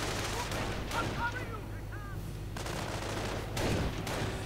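Battle gunfire in a real-time strategy game with infantry, grenadiers and snipers exchanging fire: scattered rifle pops and bursts sit under a continuous rumbling battle din, moderately loud, with a few sharper shots and a low steady hum.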